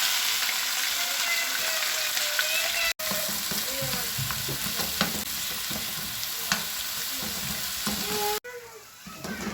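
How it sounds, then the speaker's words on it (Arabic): Onions sautéing in caramelized sugar in a pan sizzle loudly and continuously up close, with stirring scrapes throughout, two brief cuts in the sound, and a quieter, calmer sizzle near the end; a voice is faintly heard. "احط البصل ياخد تشويحة"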